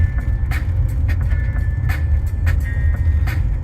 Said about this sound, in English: Sorry for the road noise. It's just a very bumpy street.